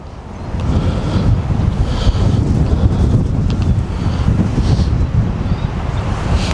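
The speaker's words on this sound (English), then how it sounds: "You might get a bit of background noise with this wind" Loud wind buffeting a microphone while fishing, a constant low rumbling roar throughout, with faint water lapping in the background and no voices.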